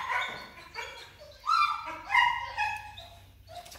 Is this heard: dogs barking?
yes